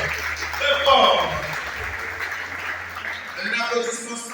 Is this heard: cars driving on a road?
no